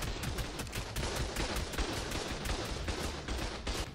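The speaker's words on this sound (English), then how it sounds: "there was one turret shooting actually" Rapid automatic turret fire during a raid on a cliff fortress in ARK Survival, a dense, continuous rattle of shots heard at a distance and fairly faint throughout.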